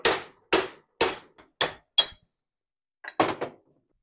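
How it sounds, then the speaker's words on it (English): Hammer blows drive a bushing into a worn door hinge on a Toyota Celica RA24, sounding as five sharp, evenly spaced metallic strikes, a pause, then a quick cluster of three more, close and loud with no talking. "Might as well hammer this in more."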